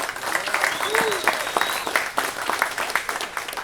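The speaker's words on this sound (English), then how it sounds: "So I want to personally give my team a round of applause." Audience at a Bare Knuckle Fighting Championship press conference claps steadily, a sustained wash of applause filling the room with dense, even clapping throughout.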